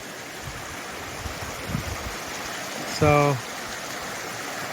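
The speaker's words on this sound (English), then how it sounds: "You can see the river goes that way." A small river in the desert streams steadily around a little island, a constant broad wash of flowing water close by, with one short spoken word and a brief sharp tonal sound partway through.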